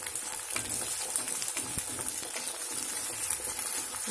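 Chinese egg fried rice stirred in a hot pan, restaurant style, giving a steady, dense sizzle of frying throughout with faint scraping under it and no talking.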